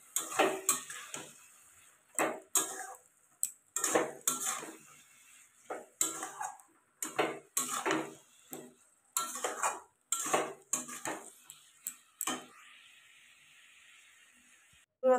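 Cabbage curry being stirred in a pan after cumin powder goes in: repeated metal spoon scrapes and clinks against the pan in short bursts with brief pauses, close and moderately loud, no talking.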